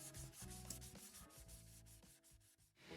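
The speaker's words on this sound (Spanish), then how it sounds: "Lijamos la superficie de la placa de nuevo y estamos listos para continuar con el proceso." A copper circuit board being sanded by hand, a close, rhythmic scraping and rubbing in repeated strokes with no talk.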